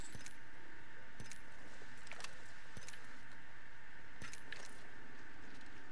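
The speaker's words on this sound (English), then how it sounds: "stop clicking your keys so loud" Computer keyboard keys clicked loudly during an Apex Legends match, a series of sharp clacks scattered across several seconds over steady game background noise.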